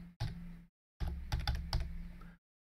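Keys clack on a computer keyboard during a short typing burst: a single tap, then a rapid run of close, fairly quiet keystrokes before silence.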